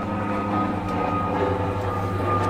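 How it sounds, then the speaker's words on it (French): Airplane passing over a campsite, heard as a steady, droning low rumble that holds at a constant level throughout with no other sounds. "Des fois, il y a des bruits. Et là, c'est juste un avion."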